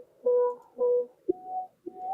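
A sung vocal chop pitched up an octave, with an automated filter sweeping its tone, plays four short sustained notes in a choppy rhythm, separated by brief gaps, dry and close.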